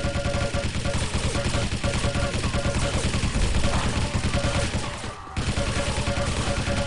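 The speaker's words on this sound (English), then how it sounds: "shooting good rockets" Dense, continuous weapon fire and explosions in a Quake Live team deathmatch, with rocket launcher shots blending into a loud, steady barrage of repeated blasts and no clear gaps.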